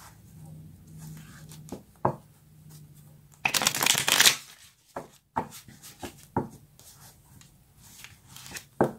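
Tarot cards are shuffled close by, with a brief flurry of riffling in the middle and softer slides and taps of the deck before and after it, over a faint low hum.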